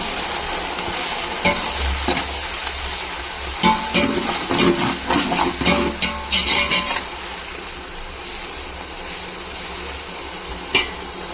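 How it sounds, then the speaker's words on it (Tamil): Onions fry in a pan for chicken biryani, a steady close sizzle punctuated by a run of stirring scrapes and clanks in the middle, then settling back to an even hiss. "வெங்காயம் போடுறோம். இந்த மாதிரி ஃப்ரை ஆகணும்."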